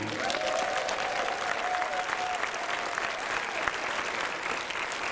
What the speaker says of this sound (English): Big round of applause for all of you.